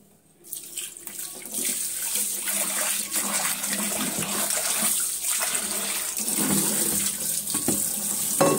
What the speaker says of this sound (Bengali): আমার ডাইনিং টেবিলের উপরে যে জিনিসগুলো থাকে সেগুলো আমি সব কিছু ধুয়ে নেব, একে একে সব কিছু ধুয়ে নেব